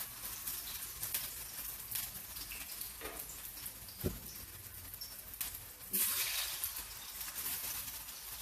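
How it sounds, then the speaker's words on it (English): Steady crackling sizzle of plantain frying in hot oil, a continuous spattering hiss with occasional sharper pops and a louder burst of sizzling near the end. "we are frying the plantain right now"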